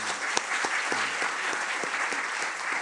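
Audience applause at a forum on Jeju's development as a free international city, a steady dense clapping with a few sharper individual claps standing out.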